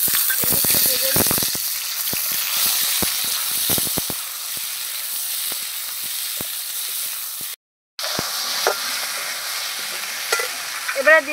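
Onions and tomatoes fry in oil in a pan of already-fried potatoes, giving a loud continuous sizzle with frequent stirring clatter early on, a brief cut near the end, then quieter bubbling hiss.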